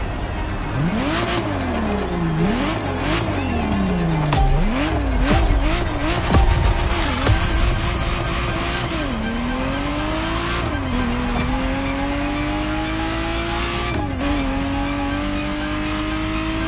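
A Ferrari Testarossa engine revs up and down repeatedly, its pitch swooping through several sharp climbs and drops before settling into longer rising pulls, loud and close throughout with a faint tire squeal.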